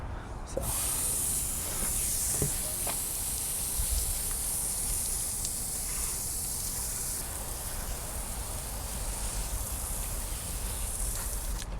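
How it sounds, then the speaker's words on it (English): A water spray rinses foam off a truck wheel and tire, giving a loud steady hiss that runs nearly unbroken for about eleven seconds after a brief quiet start. "it's time to rinse it off"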